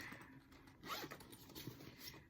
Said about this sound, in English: Ooh, and it has a zipper.